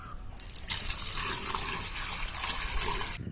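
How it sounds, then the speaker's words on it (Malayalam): Water pours steadily from a bucket into a wick irrigation tank for terrace grow bags, a continuous splashing gush that starts abruptly, runs for about three seconds and cuts off sharply. "ബക്കറ്റിലെ വെള്ളം എടുക്കുക ഇതിനകത്ത് ഒഴിച്ചു കൊടുക്കുക"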